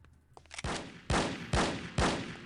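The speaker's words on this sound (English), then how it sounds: "Who's shooting?" Gunfire in the video game No One Lives Forever: four sharp, loud shots spaced about half a second apart, each one ringing out with a short decay.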